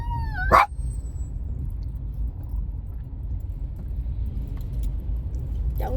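A dog gives one sharp, loud bark near the start and a fainter one at the end, heard from a car on the road through Phoenix over a low rumble of road noise.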